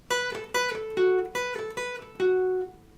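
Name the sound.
guitar solo section played twice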